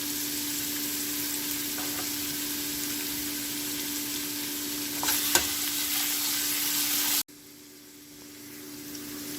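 Watermelon rind with turmeric sizzles steadily in a pan, a soft continuous frying hiss with an occasional scrape of stirring, before cutting off to near quiet.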